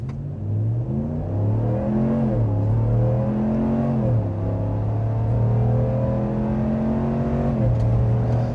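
A 2026 Ram 1500 Limited pickup with a 5.7-liter HEMI V8 accelerating at full throttle in sport mode, loud continuous engine roar climbing in pitch through several gear shifts, each shift dropping the tone before it rises again.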